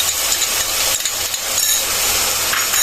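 Ginger and garlic paste frying with browned onion paste in a pan for a lentil dal chorchori, giving a steady, loud hiss and sizzle throughout with no talking.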